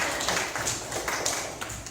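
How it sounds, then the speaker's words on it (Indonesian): A classroom of pupils claps their hands in a short burst of scattered, uneven claps, fairly quiet and close, with no talking over it. "tepuk tangan untuk kita semua"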